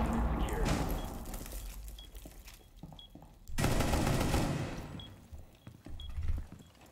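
Gunfire from Rainbow Six Siege crackles in fast bursts, loud at the start, easing, then returning in a dense volley midway and another near the end, with faint chatter between.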